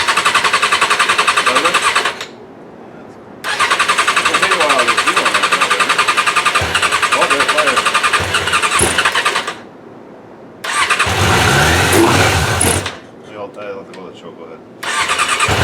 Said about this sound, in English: we're going to see if it fires up for the first time in 10 years or whatever it is